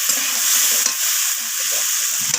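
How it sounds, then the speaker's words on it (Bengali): Vegetables are stirred in a hot pan after salt is added, a steady bright sizzle of frying with soft scraping stir strokes, close and continuous with no talking, while cooking a Bengali chorchori of kohlrabi, flat beans and eggplant in rohu fish oil. "লবণটা দেওয়ার পর আবারও আমি সব কিছুর সাথে মিশিয়ে নিচ্ছি।"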